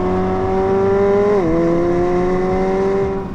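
A deep, resonant exhaust from a 2021 McLaren 765LT's quad-pipe system drones steadily and loudly, its pitch dipping briefly midway before settling into an even, rich hum.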